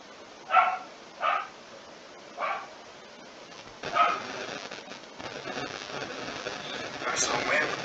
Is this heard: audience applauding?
no